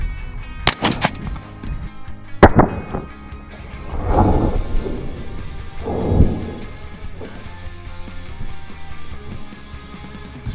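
A 12 gauge shotgun fires Federal Flight Control loads at a 25-yard target outdoors: two sharp, loud blasts about two seconds apart, each trailing off into echoing rumble, followed by softer bursts of noise.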